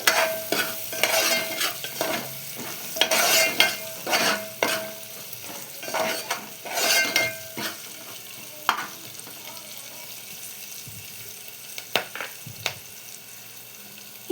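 A spoon stirs a turmeric-laced tempering in a pan. It gives repeated scraping strokes with a light sizzle, loudest early on, then thins to sparse clinks and faint frying toward the end.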